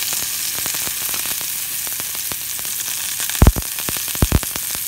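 Coral mushrooms (ramaria) frying fast in a preheated pan on low heat, a steady close sizzle with scattered pops and a few louder crackling bursts near the end.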